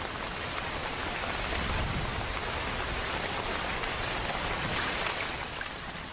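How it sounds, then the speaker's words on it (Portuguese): Heavy rain pours down in the Amazon rainforest as a steady, dense hiss that is loud and unbroken throughout, with no voices. "Em algumas áreas, 3 metros de chuva vão cair em poucos meses."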